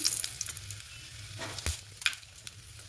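Oil sizzles steadily in a hot pan as dried chilli and bay leaf fry, with a few sharper crackles and pops cutting through.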